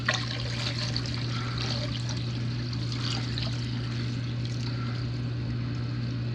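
Hot water is poured from a bucket into a container for electro etching a Predator 420 engine, a steady splashing trickle over a constant low electrical hum.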